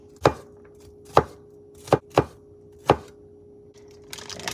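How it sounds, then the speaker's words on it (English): A knife dices an onion on a cutting board in five sharp, separate chops at an uneven pace, close and crisp, with no talking. "I do it in like slits first, and I cut in the middle, and then I go like this."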